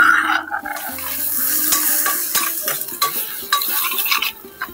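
Ground masala paste frying in hot oil in a wok, with a steady close sizzle and repeated scraping, stirring clatter of a spoon against the pan throughout, no talking.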